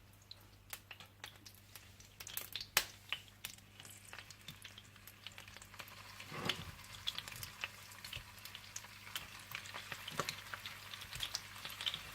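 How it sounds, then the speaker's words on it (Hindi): Chicken seekh kababs fry in oil, a quiet bubbling sizzle scattered with sharp spattering pops and crackles, fairly faint and close, with no talk. "बाकी सारे चिकन सीख कबाब भी इसी तरह से फ्राई कर लीजिएगा"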